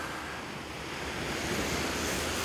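Sea waves wash onto an Azov Sea beach after a storm, a steady close roar of surf with wind noise.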